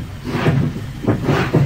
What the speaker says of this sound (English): another man climbed in, swinging the door shut as the train began to pull away